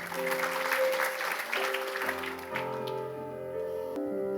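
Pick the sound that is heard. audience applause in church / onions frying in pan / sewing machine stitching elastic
audience applause in church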